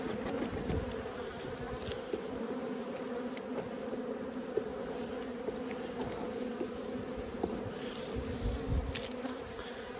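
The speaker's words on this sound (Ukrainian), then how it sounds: "Бджола карніка." A dense, steady hum of many Carniolan honey bees buzzing close by, continuous throughout with no voices.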